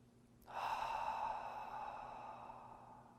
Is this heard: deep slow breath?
yes